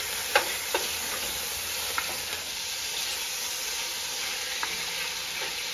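Meat for Hungarian goulash sizzles in a pot under a steady frying hiss, broken by a few soft clinks and scrapes of stirring, close and moderately quiet.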